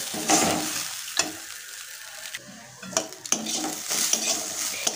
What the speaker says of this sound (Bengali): মুগ ডালটা আমি ভেজে নিচ্ছি, হালকা করে ভাজবো